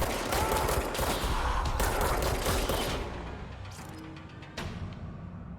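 Gunfire in the video game Control, a dense rattling burst of rapid shots that carries on for about three seconds, then thins to scattered sharper cracks and mechanical clatter at lower level.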